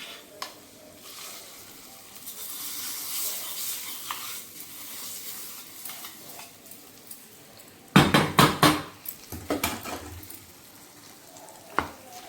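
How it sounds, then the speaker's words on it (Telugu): Hot tempering oil sizzles and crackles steadily as it is stirred into a ridge gourd curry, with a burst of louder scraping and clattering clicks partway through. "ఈ వేడి వేడి పోపును మనము ఇందులో వేసి కలుపుకోవడం"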